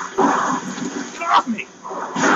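Growling, snarling attack dogs from the video game Ninja Gaiden II, loud and close in a short dense burst amid game combat noise.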